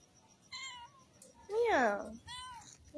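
A person imitates a cat meowing, giving three drawn-out, cat-like meows with a quiet pause between them. The middle meow is the loudest and the voice sounds close.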